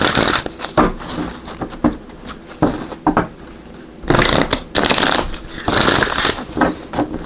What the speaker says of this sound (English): Let's see if we can get the cards here to actually want to shuffle.